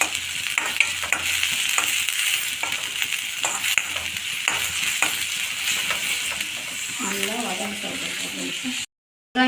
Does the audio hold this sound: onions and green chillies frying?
yes